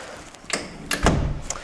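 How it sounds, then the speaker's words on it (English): Hotel room door in a Tenerife suite that fails to lock properly, giving a couple of close, dull thuds and knocks as it is worked, followed by a louder bump near the end, with faint room noise between. "So this door doesn't lock properly."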